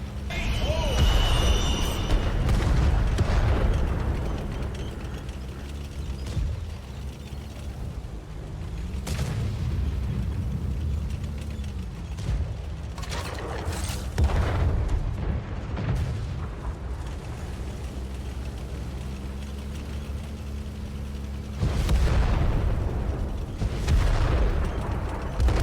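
Unguided rockets exploding in World of Tanks Console Modern Armor, several deep booms and rumbling blasts scattered over a steady engine drone, with a person talking at times.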